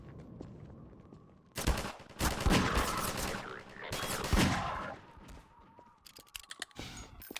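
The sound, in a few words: gunshots in the video game Half-Life 2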